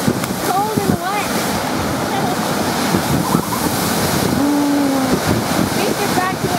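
Big waves crash and surge along the shore at Spencer Smith Park in Burlington, Ontario, a loud continuous wash with gusting wind noise, and people talk over it.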